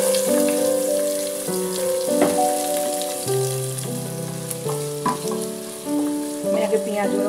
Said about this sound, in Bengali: আমি একটু বেরেস্তা ভেজে নেবো, বেরেস্তা করে নেবো আর কি